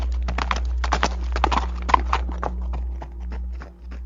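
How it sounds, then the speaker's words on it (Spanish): A horse clip-clops at a brisk pace with sharp, close hoof strikes, then slows and stops, with a low steady hum underneath. "escucharon el galopar de un caballo que se detuvo justo frente a ellos"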